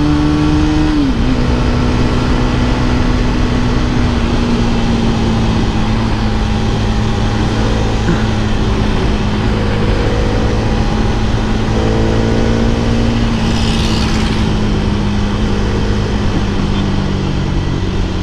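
Hero Karizma XMR 210 motorcycle engine under way, a steady loud drone with a sustained whining tone that dips slightly early, then holds through the ride with continuous wind and road rush.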